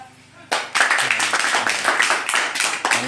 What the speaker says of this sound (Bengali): এই ছাত্রছাত্রী সবাই একটু হাততালি দাও।